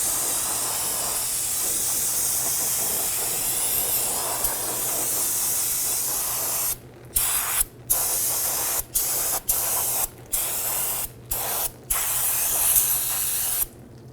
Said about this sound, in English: spray this down with some spray solvent and clean up all the old brake dust